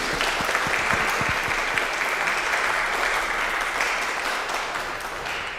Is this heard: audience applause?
yes